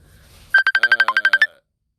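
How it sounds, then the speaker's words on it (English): Close electronic ringtone: a rapid series of about ten sharp beeping pulses, loud and clear, with faint background noise before it begins. "That's my phone ringing."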